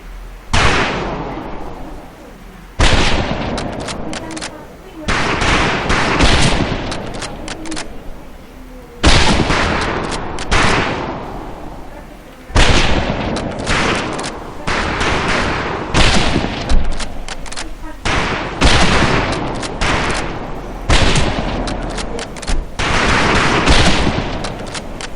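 Sustained volleys of rifle fire on a boot camp firing range in the video game Medal of Honor Pacific Assault, loud, dense overlapping shots in bursts with brief gaps, no talk over it.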